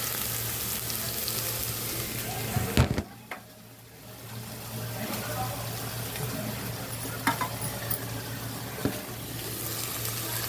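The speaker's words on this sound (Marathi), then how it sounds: "हे वाटण आपण छान परतून घ्यायचं आहे मस्तपैकी तेल सुटेपर्यंत" Coconut, garlic, green chilli and coriander paste sautéing in hot oil, a steady close sizzle with occasional spoon scrapes, briefly dropping away for a moment before resuming; a low mains hum runs underneath.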